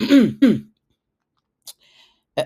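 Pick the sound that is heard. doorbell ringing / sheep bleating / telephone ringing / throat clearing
throat clearing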